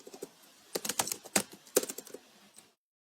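Rapid bursts of typing on a computer keyboard, crisp close key clicks in uneven clusters, then silence at the end; no talking.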